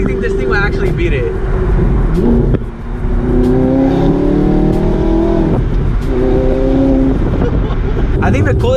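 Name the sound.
Audi R8 V8 loud exhaust accelerating on freeway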